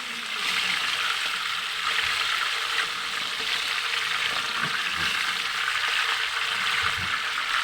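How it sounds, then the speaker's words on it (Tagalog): Food fries in hot oil in a pan with a constant loud hiss and sizzle, broken by occasional small pops and splatters, close by and steady throughout. "Nakakatakot magluto ng ganito, tumatalsik."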